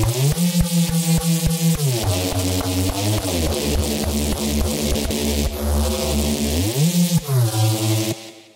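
A thick, growling Reese bass synth, made in Serum, plays alone in a rhythmic pattern, its detuned buzz shifting pitch between sustained notes.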